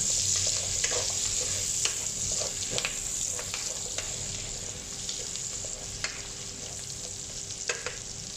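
Onions sizzle in a pan with pork and vegetables, while a utensil scrapes and taps intermittently as everything is stirred together. A quiet, constant hiss of frying runs underneath, with no speech.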